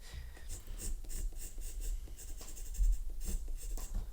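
A pencil held in a lead holder scratches across paper while drawing and shading, close and fairly soft, with quick repeated strokes and short pauses.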